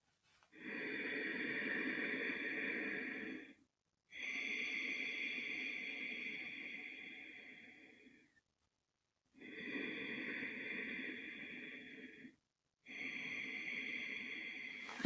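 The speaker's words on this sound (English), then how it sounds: "And the sound is produced by the fact that I partially close my back of the throat." Constricted breathing through a partially closed back of the throat, a hoarse, airy rush that comes in four long, steady breaths separated by short pauses, close and fairly loud with no talking.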